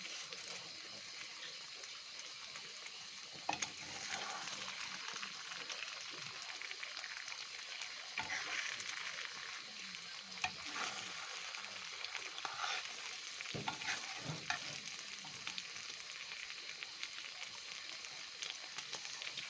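Eggs fry in a pan with a steady, moderately quiet sizzle, broken by a few sharp clicks and scrapes as they are turned over.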